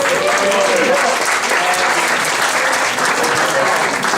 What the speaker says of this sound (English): So everyone else give a round of applause, please.